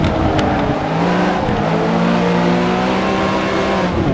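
A Ferrari race car engine in a VR sim-racing game revs loud and close, holding a high, steady drone whose pitch climbs and dips without a break.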